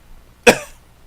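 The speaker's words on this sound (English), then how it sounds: "Cough." A single sharp cough during a doctor's physical examination, short and close, bursting out of near silence and fading within a fraction of a second.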